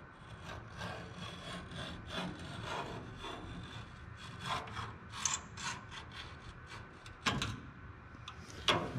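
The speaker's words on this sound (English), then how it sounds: "I can just take my scribe and go along the back side" A metal scribe scratches a line along the sheet-metal rear cab wall of a 1967 Kaiser Jeep M715, giving faint, close scraping strokes with a few sharper scrapes near the end.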